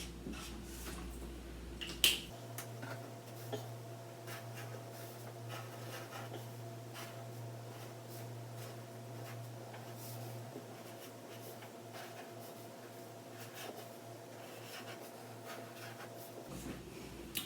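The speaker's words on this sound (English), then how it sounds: "I'm going to use some markers and I'm going to draw these big spots on my giraffe" Markers squeak and scratch across paper as big spots are drawn on a giraffe picture, making soft, close, irregular strokes over a faint steady hum.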